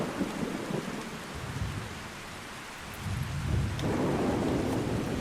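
Rain and thunder in the video game Ark, a loud continuous downpour hiss with deep rolling thunder rumbling in waves and swelling toward the end, with no talking.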